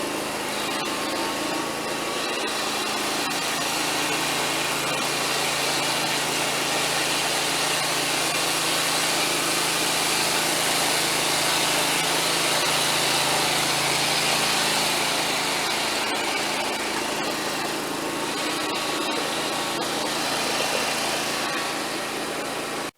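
A riding lawn mower fitted with ag tires drones loudly and steadily as it drives next to a barn, a constant high engine whine that never lets up, with no one speaking.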